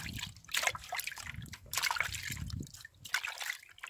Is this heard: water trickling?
yes